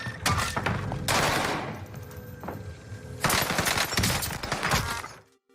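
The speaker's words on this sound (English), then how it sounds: "Yeah, shooting a wall in the same place someone is standing behind is pretty sus." Rapid automatic gunfire aimed at a wall in the video game Fortnite, loud dense bursts in two long volleys with a short lull between, ending abruptly.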